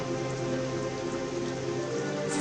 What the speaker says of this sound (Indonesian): Hujan pun turun dengan lebatnya.